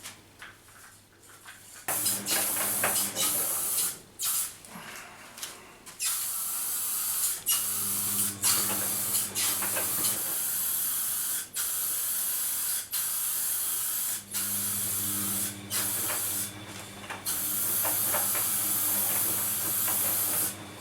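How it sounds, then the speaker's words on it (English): PlastiKote aerosol primer is sprayed onto a bedside table, heard as close, loud hissing bursts of varying length, repeated many times with brief pauses between. "So I'm just going to spray a very light coat of primer onto here."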